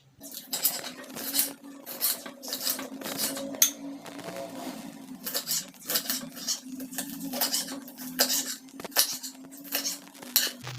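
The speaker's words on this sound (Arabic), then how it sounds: "يلا نقطع الفلفل بقى" A knife cuts washed bell peppers for Alexandrian-style liver, making a steady run of close, crisp chops and taps on a board.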